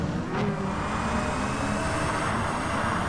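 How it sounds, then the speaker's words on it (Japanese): Electric Audi e-tron race car in Gran Turismo Sport with a steady, train-like electric whine and rumble, continuous and fairly loud throughout with no talk. "ああイートロンの音がもう電車じゃん"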